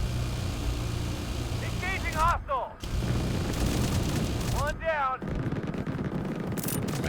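Steady, dense automatic gunfire from AI-controlled allies in the sci-fi drone game Drone Sector, rattling on loud and continuous for the whole stretch, with brief bursts of a voice cutting through twice.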